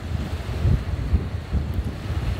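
Ocean surf washes near a seaside tower, a steady low roar of rolling waves mixed with buffeting wind against the microphone, with no voices.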